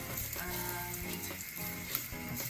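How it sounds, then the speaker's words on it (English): Beans with Scotch bonnet sautéing lightly in a pan for jerk jackfruit wraps, a soft, steady sizzle with faint stirring scrapes and tonal kitchen hum, quiet throughout. "just gonna saute down that lightly"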